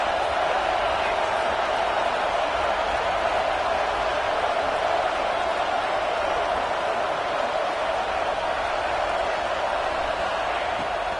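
A college football stadium crowd, Oregon Ducks game, keeps up a loud, continuous roar at a steady level, with a voice faintly present beneath the din.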